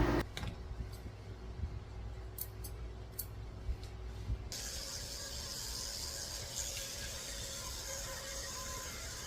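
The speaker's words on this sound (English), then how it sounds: "I'm just spraying on some conditioning spray" Conditioning spray hisses in a steady, faint stream onto a Shih Tzu during grooming, close and continuous with a slight rise partway through, no talking.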